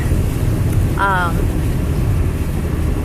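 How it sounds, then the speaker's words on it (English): Strong wind from the start of Hurricane Arthur in 2014 buffets the microphone in a continuous loud rumble near a bridge, with a brief tonal whine cutting through partway. "I didn't realize it had become that windy already."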